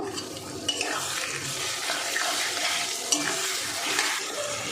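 Potatoes with spices and whisked sour yogurt sautéing in a pan, a steady wet sizzle with stirring and scraping running throughout, close and continuous with small louder knocks.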